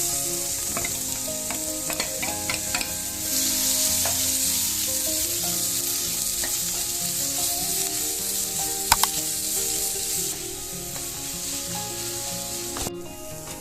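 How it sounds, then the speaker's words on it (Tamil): Steady sizzling and frying of chopped onions sautéing in butter in a pan, with scraping and stirring sounds throughout and a few sharp clinks of a utensil against the pan. "இப்போ 2 பெரிய வெங்காயம் பொடியா நறுக்கியிருக்கேன், இதையும் சேர்த்து நல்லா வதக்கிக்கலாம்."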